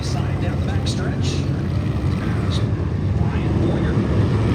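Race cars roaring down the back stretch in a heat race, a dense, continuous engine drone with a crowd-like wash, loud and steady with an announcer's voice over it.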